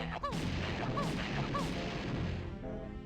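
Grenade blasts and gunfire in a Banjo-Tooie deathmatch, a dense, continuous roar of explosive bursts with rising whistling tones layered over it, loud and unbroken throughout.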